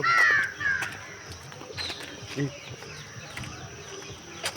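A crow caws a few times near the start, outdoors near a playground, followed by faint scattered noises and quiet background.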